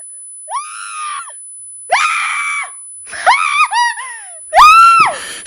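A woman screams in terror in a horror audio drama, four long anguished shrieks with short gaps between them, loud and close, with no other voices.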